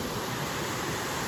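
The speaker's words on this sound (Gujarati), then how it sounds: "કેટલું પાણી સ્પીડમાં જાય" Fast-flowing river water coming down from a jungle area rushes as a steady, loud, dense wash with no breaks and no voices.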